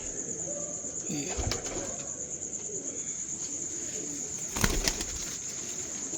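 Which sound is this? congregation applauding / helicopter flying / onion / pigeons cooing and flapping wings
pigeons cooing and flapping wings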